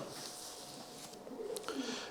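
Low, soft cooing of a speckled female racing pigeon rising briefly near the end, close by, over a faint airy background.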